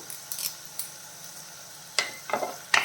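Ginger, garlic and curry leaves frying for a crab roast, a faint sizzle broken by a few sharp scraping and clinking bursts from stirring.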